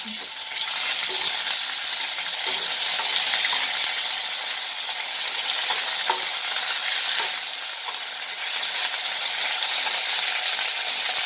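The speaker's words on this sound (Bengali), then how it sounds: "আলুটা ভাজা হয়ে গেছে এখন আদাটা দিয়ে দিলাম" Continuous loud sizzling from potatoes and ginger frying, broken by occasional stirring clatter, with no one talking.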